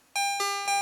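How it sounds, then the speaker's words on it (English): Three bright celesta notes from the Kiwi-3P synthesizer ring out in quick succession, clear and bell-like with short sustains, close and alone without any talking. "Celesta."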